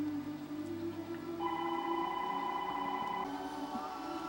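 A telephone rings at home, a steady electronic ring holding for a couple of seconds over a background hum, fairly close and moderately loud, with no one speaking.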